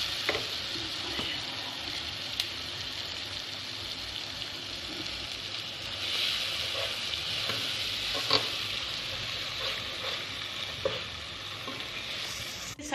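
Tomato masala frying in ghee in a pan, a steady soft sizzle with occasional scraping stirs and small clicks, close and fairly quiet, continuous without talk.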